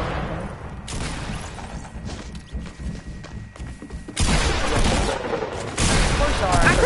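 Gunfire rattles in a building video game as bursts of shots and thuds land near and far. Talk runs over the shooting, and the bursts grow louder and denser toward the end.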